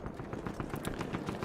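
Rapid automatic gunfire from a Battlefield 1 multiplayer match on a desert map, a dense, loud, evenly spaced stream of shots that runs without a break.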